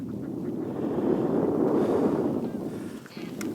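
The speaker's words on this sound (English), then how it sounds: "That wind did come in, or it's just come in, I mean literally this second" Wind rushing steadily across a sailboat at sea near Bear Island, a broad continuous roar that swells and holds, then dips briefly before returning.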